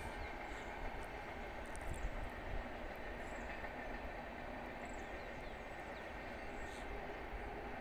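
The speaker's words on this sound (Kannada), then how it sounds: "ಟ್ರೈನ್ ಹೋಗ್ತಾಯಿದೆ, ನಮ್ಮ ಮಾಕ್ಲಿ ದುರ್ಗದ ಬೆಟ್ಟದ ಮೇಲೆ ಟ್ರೈನ್ ಹೋಗ್ತಾಯಿದೆ" A train rumbles past on a hill at Makli Durga, a faint, steady distant roar with a soft undertone and no clear clicks, heard over open rural ambience.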